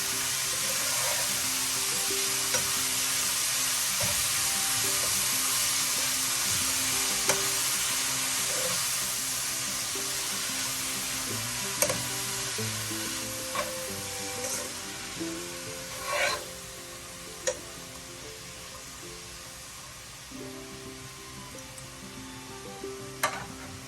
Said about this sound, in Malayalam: എല്ലാം കൂടെ ഒന്ന് മിക്സ് ചെയ്യാം.